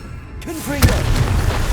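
Confringo blasting spell fired in Hogwarts Legacy, a single short booming burst with a whooshing magical flourish, loud and close over ambient game sound.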